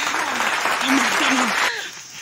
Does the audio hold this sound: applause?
yes